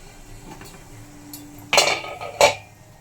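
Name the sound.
lid being put on cooking pan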